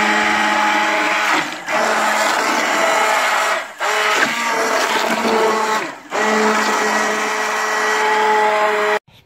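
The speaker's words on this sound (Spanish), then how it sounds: "A mí me gusta pasarlo un poquito por la batidora, porque queda más fino." A hand blender whirs loudly in bursts, cutting out briefly three times between runs as it purées a thick tomato sauce, close by.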